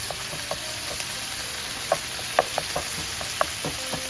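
Meat sizzles in hot oil in a pan for tacos a la Mexicana, a steady bright hiss with scattered pops and a few sharp knocks of a utensil breaking it up, close and continuous with no voices.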